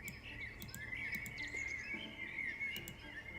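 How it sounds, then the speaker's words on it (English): Birds chirp and call from the trees in a calm woodland area of the Dragon Age video game, short tweets layered over a constant insect-like buzz of forest ambience. "you can hear birds in the trees"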